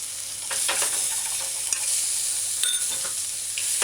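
A hamburger patty cooks on a stovetop pan turned down low, giving a steady close sizzle broken by a few scraping and shuffling sounds as it is moved and flipped.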